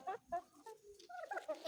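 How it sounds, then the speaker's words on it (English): Chickens on an organic poultry farm cluck actively and close by, with several overlapping, repeated calls rising and falling throughout. "these are our birds that we are raising organically without any vaccination"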